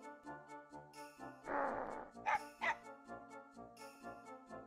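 A dog in the Mega Man Legends video game gives a few short whimpering yelps in quick succession over steady background game music.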